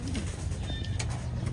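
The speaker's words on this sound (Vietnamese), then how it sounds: "Còn chim bồ câu của trại mình đây" Pigeons at a farm give low, soft cooing over a constant dense background rumble, close and unbroken throughout.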